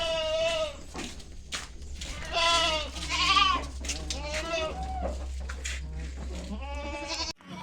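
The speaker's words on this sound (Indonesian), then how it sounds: "Kambingnya gemuk-gemuk, sehat-sehat bang." Etawa goats, plump and healthy, bleating repeatedly at close range, their wavering cries loud against a steady low hum, with people talking nearby during loading for shipment.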